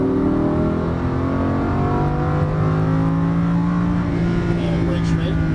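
A Lamborghini Huracan LP610-4 accelerates on a track, its engine holding a loud, steady rising drone from inside the car.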